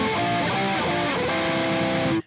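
Heavily distorted electric guitar plays a metal riff harmonized in thirds, a dense sustained wall of chords with shifting pitches, loud and alone before cutting off abruptly.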